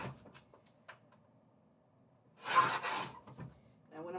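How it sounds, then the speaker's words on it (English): Paper print for a tumbler wrap trimmed on a cutting board, a brief soft swish and scrape of a cut near the middle, with quiet handling sounds and light rustling around it. "I'm going to just take it over to my cutting board and"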